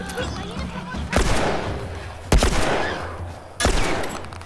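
Three heavy gunshots come in The Last of Us Remastered on PS4, each a sharp, loud blast with a decaying echoing tail, spaced about a second apart, with voices mixed in.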